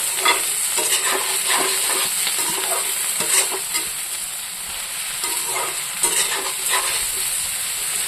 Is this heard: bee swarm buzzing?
no